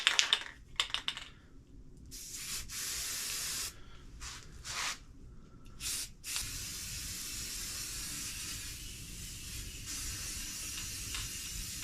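Bursts of Varathane Triple Thick aerosol spray finish hiss, several short blasts then a longer continuous spray onto coffee table legs, close up with no talking.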